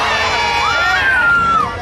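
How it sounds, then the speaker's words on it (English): Children in a crowd at a Townsville show cheering and shouting together in one loud, sustained burst, with a high voice rising above the rest. "you have to cheer loud"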